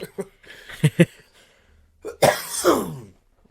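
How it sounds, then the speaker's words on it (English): A few sharp coughs, then a harsher, longer bout of throaty coughing close by, with short pauses between bursts. "I got this awful fucking cough."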